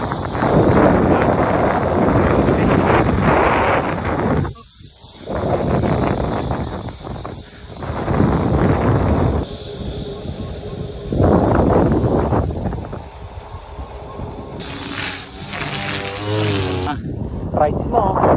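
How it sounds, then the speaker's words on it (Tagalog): Strong headwind buffeting a microphone during a bicycle ride, heavy roaring gusts that surge and drop, with a brief lull and a passing vehicle near the end. "Sobrang lakas ng hangin."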